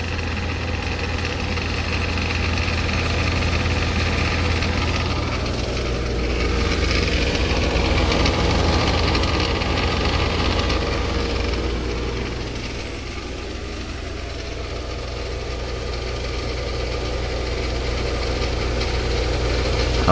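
A 1994 DeLonghi 40-pint dehumidifier runs with a continuous low motor hum and droning vibration, steady and nearby, swelling slightly in the middle with no one speaking.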